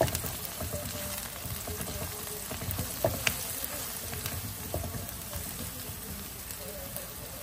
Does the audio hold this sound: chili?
yes